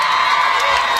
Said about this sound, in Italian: fate l'applauso ragazzi